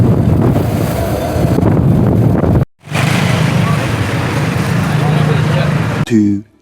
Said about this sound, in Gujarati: કેટલો પવન ફૂંકાઈ રહ્યો છે